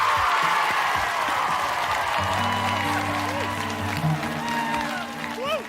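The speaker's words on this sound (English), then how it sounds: "The applause dies down" Applause from a Top of the Pops studio audience fills the first seconds, then fades while a sustained musical tone enters and voices carry over the tail.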